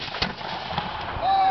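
Black-powder muskets fire at a War of 1812 reenactment, one sharp report early on and fainter shots after it, each booming briefly across open ground before a steady hum rises near the end.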